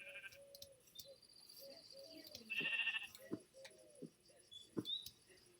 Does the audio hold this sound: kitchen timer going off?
no